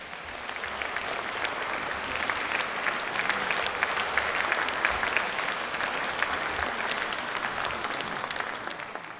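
A live audience gives dense, sustained applause to welcome a well-known actor and humorist onto the stage at an anniversary evening. The clapping is loud and even throughout, with no speech over it.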